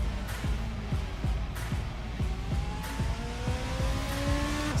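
A race car engine in a sim racing game, an F2 car lapping Portimao, revs climbing and dropping through repeated upshifts into 6th gear, with a steady rising whine and a sharp pitch drop at each shift, close and loud.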